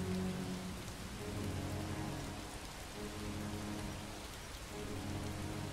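Steady rain falling on surfaces in the video game Far from Noise, a soft even wash of drops at moderate distance, continuous and unbroken with no voices.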